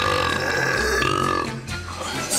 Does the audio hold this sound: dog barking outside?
no